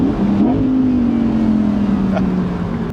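An Audi R8 V10 Performance Spyder engine revs up loudly and holds a high, sustained roar, close by, easing off slightly toward the end.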